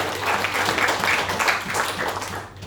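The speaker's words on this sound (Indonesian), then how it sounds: "Kasih tepuk tangan buat Tuhan." A church congregation claps and applauds together during a service, a steady dense patter of many hands at moderate volume that fades slightly toward the end.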